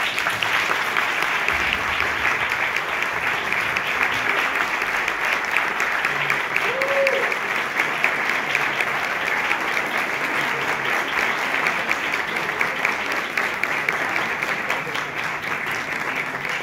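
A theatre audience at a film presentation applauds steadily and loudly throughout, a dense continuous wash of clapping with no pauses.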